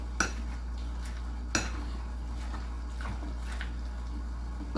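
A spoon works through a Louisiana seafood cake mixture in a bowl, scraping and clinking against the sides in a loose, irregular rhythm, close and fairly quiet.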